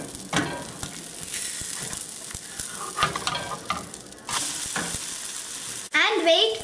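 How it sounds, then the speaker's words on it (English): Sorrel and egg omelet frying in hot oil in a pan gives a steady crackling sizzle with scattered pops and scraping stirs, and a sharper burst of spitting near the end. "Once the oil is hot, pour the egg mix. Put a lid on your pan."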